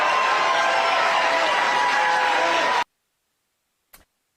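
Crowd at a MAGA rally for President Trump cheering and applauding in a dense, steady roar that cuts off abruptly, followed by silence and one faint tick.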